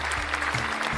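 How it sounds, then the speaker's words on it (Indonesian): A classroom of students claps briefly for a classmate, with a short, steady patter of hands over a low background hum. "Tepuk tangan juga untuk Rizky."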